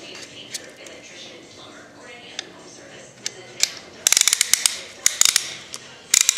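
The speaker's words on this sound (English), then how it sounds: "gonna want to crank it around your rings" During a 1.8T engine assembly, a ratcheting piston ring compressor tool is cranked tight around oiled piston rings: a few isolated clicks at first, then quick bursts of sharp, close ratchet clicks.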